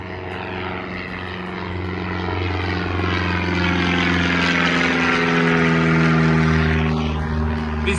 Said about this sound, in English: And another plane.